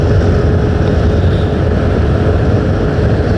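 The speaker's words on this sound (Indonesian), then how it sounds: "Kenceng banget tuh mobil." A car speeds past on an Indonesian road, heard from a motorcycle, as a loud, steady whooshing roar with a constant low rumble throughout the short moment.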